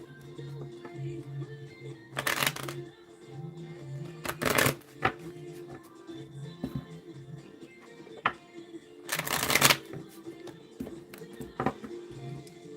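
Tarot cards are shuffled in a few separate bursts, each a crisp riffling flutter lasting under a second, with quieter handling taps and faint background sounds between them.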